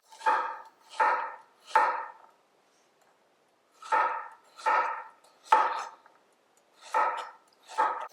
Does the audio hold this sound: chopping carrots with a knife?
yes